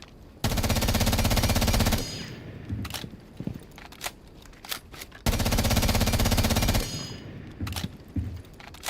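Automatic gunfire from a heavily recoiling gun in an online deathmatch video game, two loud sustained bursts of rapid shots, each followed by scattered clicks and handling sounds.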